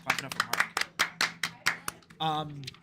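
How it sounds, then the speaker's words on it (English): A small group claps in a few loose, uneven bursts at a live esports broadcast, the claps sharp and close, before a voice speaks over the end. "Clap it up for Mark."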